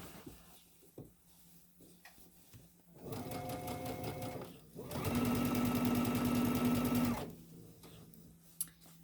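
A sewing machine runs in two bursts, the second louder and steadier, as it stitches the hem of a gothic chasuble, with quiet handling sounds in the pauses.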